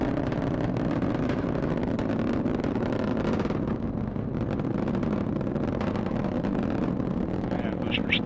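Rocket boosters roar through a launch near Mach 1, a steady, heavy, distant rumble running the whole time under a mission-control voice calling out status.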